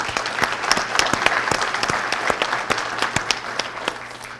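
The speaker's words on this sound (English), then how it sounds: "I think we all recognize and perhaps could applaud the effort." Applause from a town meeting audience in Madison, New Hampshire, a crowd of separate hand claps rising and then slowly thinning, the individual claps distinct and fairly near in a room.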